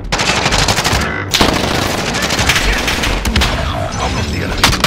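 Gunfire in an Apex Legends match, with loud rapid bursts of automatic fire, brief pauses and further volleys, close and continuous, dominating the scene.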